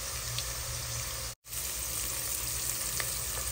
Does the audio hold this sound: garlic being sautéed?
yes